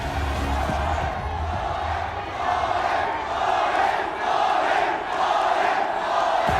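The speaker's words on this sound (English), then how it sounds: "The crowd has chanted." A large crowd at a Mobile Legends: Bang Bang esports grand final roars and chants together in a loud, sustained wall of voices that swells and falls steadily, filling a big indoor arena.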